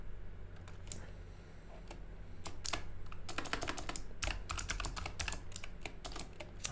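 Typing on a computer keyboard during game development work, a stream of quick, close key clicks in irregular bursts, sparse at first and then denser, over a faint steady hum.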